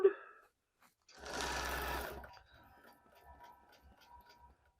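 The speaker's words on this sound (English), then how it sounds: "I'm going to go ahead and start stitching this" A sewing machine stitches a batik fabric placemat in one close, rapid burst lasting about a second, then falls quiet.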